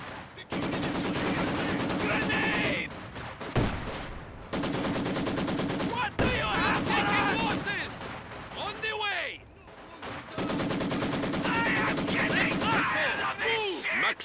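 Machine gun fire in the World War II strategy game Company of Heroes 2, with sustained rapid bursts and explosions under frequent battlefield voice callouts and radio chatter, loud and dense throughout.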